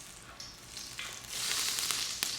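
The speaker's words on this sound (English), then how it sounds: "spill oil on the burner, it's just going to sizzle" Cooking oil spilled onto a smart stove burner at maximum temperature sizzles and crackles. The sound starts softly, then swells into a dense, close, steady frying hiss, with no voices.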